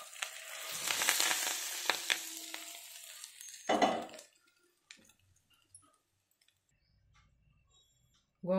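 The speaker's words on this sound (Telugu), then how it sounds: "పోపు వేగినంత దీంట్లో వేసేసుకున్నాం" Spice tempering sizzles loudly in hot oil for gongura pulihora, a crackling fry with clicks and stirring that fades to near silence, leaving faint scattered clinks.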